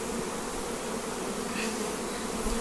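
A dense, steady hum of many honey bees buzzing close by around a comb while a bee package is installed, continuous and even throughout.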